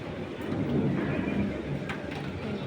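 Steady rain falls while low thunder rumbles through, a continuous stormy wash with no voices.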